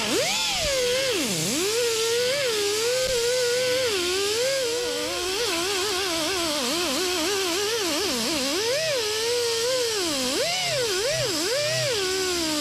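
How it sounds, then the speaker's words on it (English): An angle grinder fitted with a 24 grit Roloc disc grinds body filler on a 1959 Dodge Coronet, a loud, continuous whirring whine that rises and dips in pitch as the disc bites and eases off the panel. "I'm gonna get in here with my grinder"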